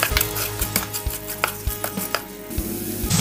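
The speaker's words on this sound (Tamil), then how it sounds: "இப்போ இது நல்லா மிக்ஸ் பண்ணி கொடுத்துக்கலாம்." Onion and tomato masala being stirred in a pan for a pakoda kulambu, with repeated scraping and tapping strokes over a steady sizzle, close and fairly loud, no talking.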